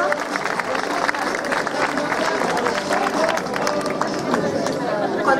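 Applause for a model walking in a retro 1960s fashion show in La Galga, La Palma, steady dense clapping mixed with crowd murmur, continuous and fairly loud throughout.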